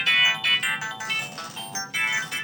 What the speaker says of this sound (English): I do have the Fi's ringtone as my actual ringtone